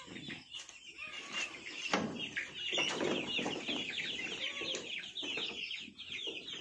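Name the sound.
chickens clucking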